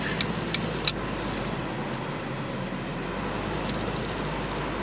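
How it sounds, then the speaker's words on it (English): A delivery truck rolls through a residential neighborhood with a steady, broad rumble of engine and road noise that holds for several seconds, marked early by a few brief metallic clicks. "Ooh, a delivery truck."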